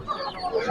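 Roosters and hens cluck in a crowded poultry market, with short close calls over a busy background hum.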